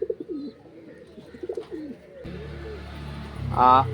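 Flying pigeons at a loft in Pappanamcode, Thiruvananthapuram, coo in soft, rolling, repeated calls close by, followed by a steady background hum and one short, louder call near the end.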